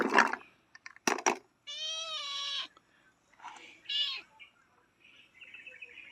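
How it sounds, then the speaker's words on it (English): A house cat meows several times in a home where a water system is being worked on, with a long drawn-out meow in the middle and shorter calls around it, close and fairly loud. "Gosh, I attract all the cats."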